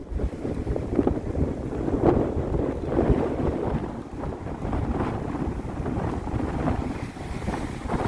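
Sailboat under way at sea between Greenwell Point and South Sydney, with gusty wind buffeting, sloshing water and hull noise, a continuous rough wash without voices.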